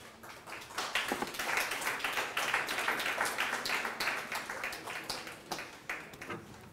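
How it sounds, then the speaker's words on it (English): Audience applause for speaker Chris at a Blackmagic Design conference and expo in Kenya, a dense, steady wash of many hands clapping throughout, swelling slightly in the middle and thinning toward the end. "Another round of applause for Chris,"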